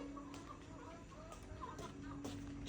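Chickens cluck softly amid a busy outdoor farmyard ambience, with short scattered calls at moderate distance over a steady background hum and no speech.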